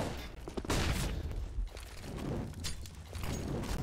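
Rapid AK rifle bursts crack out in a Counter-Strike: Global Offensive match on the Vertigo map, loud sharp shots in quick clusters with brief gaps between them.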